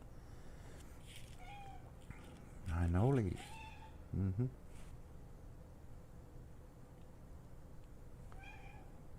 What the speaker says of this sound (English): She's meowing right now.